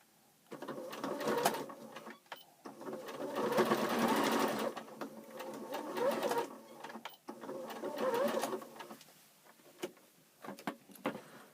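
Domestic sewing machine running in bursts as it stitches across a small gap in a pair of pyjamas, a close, steady mechanical whir that speeds and pauses several times with short quiet breaks between runs.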